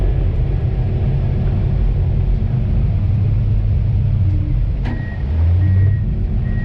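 A Komatsu D51 PX22 dozer engine runs wide open in third gear while pushing topsoil, a loud, steady, close diesel roar and rumble with faint whining tones and a brief dip near the end.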